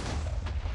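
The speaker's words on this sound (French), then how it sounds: "Pourquoi y'a des explosions partout là? Il joue le coffre. Il y a plein de TNT." TNT blocks exploding in a video game: a dense, continuous rumble of overlapping deep booms with no separate bangs, loud and alone.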